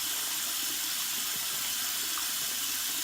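Water running steadily from a tap into a sink during handwashing, a soft continuous broadband hiss heard alone at moderate-low level.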